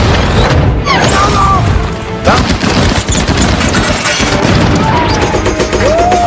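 Loud, dense tank battle din between an American Sherman tank and German forces: overlapping gunfire bursts and heavy booming blasts, with shouted voices and whistling tones mixed into the chaos.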